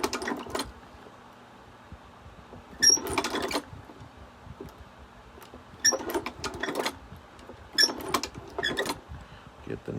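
A leather shoe patcher sewing machine back stitching leather comes in short mechanical bursts of rapid stitching, separated by quiet pauses, close and moderately loud.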